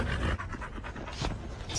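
A dog pants in quick, rough breaths, close and fairly loud against a noisy background with faint voices.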